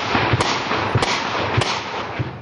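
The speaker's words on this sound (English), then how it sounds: "we're ambushed by insurgents. And rocket-propelled grenades come sailing towards us." Gunfire during an insurgent ambush in Afghanistan with Australian ASLAV armoured vehicles nearby, several sharp cracking shots spaced at irregular intervals over a rough background rumble.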